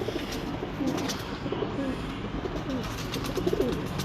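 Breeder pigeons of the Maz wale bloodline cooing close by, repeated low throaty coos rolling over a constant background hum.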